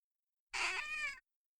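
A single short cat meow, close and clear, rising then trailing off, surrounded by silence.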